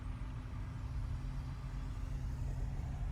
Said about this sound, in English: Stuck in traffic.